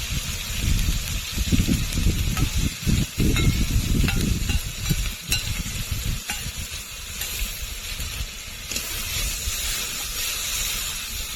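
Water poured into frying masala for a village-style mutton and potato curry, giving a loud, sustained sizzle and steamy hiss with stirring clatter that gradually settles into a steadier, softer frying hiss.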